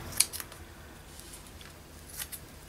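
Scissors snip through lacy trim in a few quick, crisp cuts at close range, with quiet handling in between, including a sharp snip near the start and another near the end.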